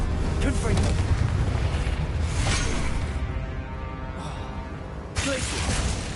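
Hogwarts Legacy spellcasting, including the Confringo blasting spell, rumbles as a continuous roar of booming blasts and crackling debris, loud and heavy, with a second burst near the end.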